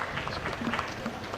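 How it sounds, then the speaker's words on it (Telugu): Dense applause from a large audience at a political gathering, steady and moderately loud throughout a brief burst, with faint voices mixed in. "గట్టిగా చప్పట్లు కొట్టి అభినందించండి."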